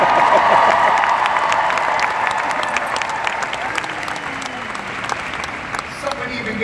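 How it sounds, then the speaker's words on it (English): Audience applause fills a large event hall, sustained and dense from the start and slowly tapering over several seconds, with some crowd voices mixed in. "Those are the married people clapping."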